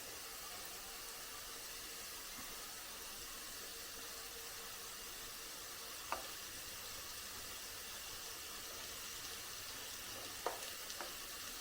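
Banana snack made from overripe black-skinned plantain frying in oil in a pan over a medium flame: a steady, even sizzle throughout, with two brief clicks of a utensil.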